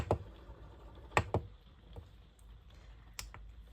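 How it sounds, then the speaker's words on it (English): A few sharp plastic clicks, spaced irregularly, like buttons being pressed on a campervan's control panel, fairly close in a quiet room. "So you can turn it on and off by clicking the button"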